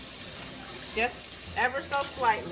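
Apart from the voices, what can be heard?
washing burros under cold running water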